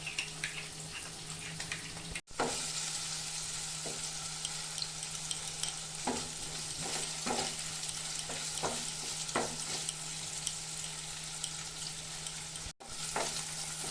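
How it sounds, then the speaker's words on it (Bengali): Paneer cubes frying in oil in a kadai, a steady close sizzle throughout with occasional soft stirring scrapes and a brief pause near the start and end. "পনিরটা আমার ভাজা হয়ে গেছে, এখন আমি নামিয়ে দিব।"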